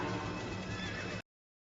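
A horse whinnies loudly and close by, its call filling the brief moment before cutting off abruptly.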